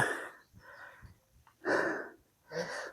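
Heavy, laboured breathing from someone trekking uphill toward a hilltop viewpoint at Sirumalai near Dindigul: a few loud, close, breathy gasps in an uneven rhythm with short quiet gaps between them.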